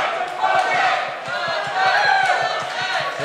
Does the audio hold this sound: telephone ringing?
no